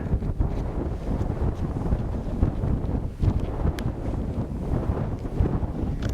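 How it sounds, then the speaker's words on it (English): Strong wind buffets the microphone outdoors at Freeze Out Lake, Montana, during a November swan hunt, a steady broadband roar with gusty flutter throughout and no speech. "Oh, wind."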